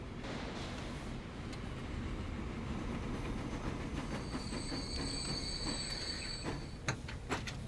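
A grain train in the video game Transport Fever 2 rolls steadily, with a continuous rumble of rail wheels and a high metallic squeal midway, fairly faint and heard alone.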